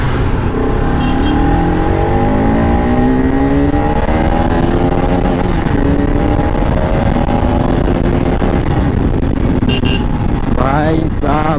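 A restored RS motorcycle runs on its original exhaust, a loud, close engine whose pitch rises and falls through repeated revs for the whole stretch, ending in a sharper burst of throttle.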